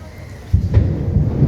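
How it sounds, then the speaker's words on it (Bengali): A deep, heavy rumble of thunder rolls in after a quieter moment, loud and low, lasting through the rest of the clip. "বজ্র হলো"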